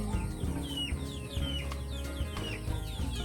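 Backyard chickens in their pen under a Jamaican cherry tree, clucking in short, busy, overlapping calls at close range, with occasional rising squawks over a low steady background.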